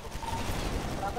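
Rapid gunfire rattles through a roleplay video game in a dense, continuous burst of shots at moderate volume, with a voice talking over it.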